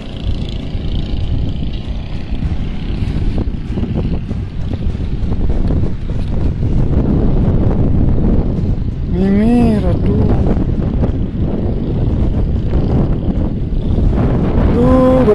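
Strong, constant wind buffeting the microphone beside Lake Batur in Kintamani, a steady roaring rumble throughout, with brief faint voices in the background partway through.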